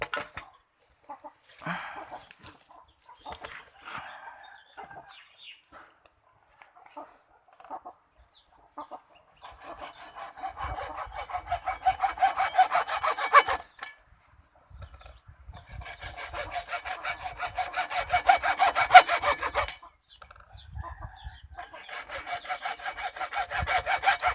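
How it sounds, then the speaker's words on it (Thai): A hand saw cuts through bamboo for an eel trap in long, steady rasping strokes, several separate bouts with short pauses between them, close and clear, while a chicken clucks faintly in the background. "เดี๋ยวขออนุญาตเลื่อยก่อนนะครับผม"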